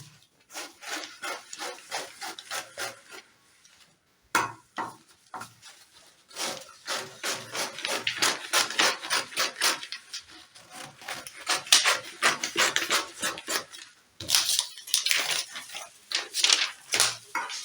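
Scissors cutting through corset fabric along a paper pattern, a close, steady series of rhythmic snipping and rustling strokes with one short pause partway through.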